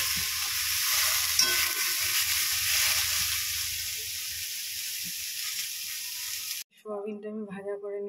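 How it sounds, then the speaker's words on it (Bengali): Soybean chunks fry in oil with a loud, constant hiss and crackle for several seconds. The sizzle then cuts off suddenly, giving way to a different, tonal sound. "সোয়াবিনটাও লাল লাল করে ভাজা করে নেব"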